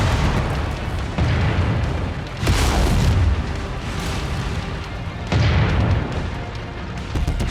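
A towering mech in MechWarrior 5 smashes through big buildings, producing loud rumbling booms and crumbling crashes in several heavy waves, with a sustained low roar of collapsing debris between them.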